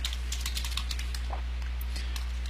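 Fingers typing a password on a computer keyboard, a quick run of light clicking keystrokes close by over a low steady hum.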